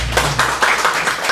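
A church congregation at a Sunday worship service applauds the deacon after worship singing, a short burst of brisk, rhythmic clapping heard close and fairly loud.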